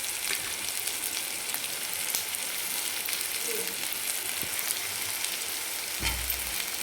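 Chighal (ghol) greens, squeezed dry, sautéing in a pan with chana dal, a steady fine sizzle and crackle throughout with a soft stirring scrape near the end.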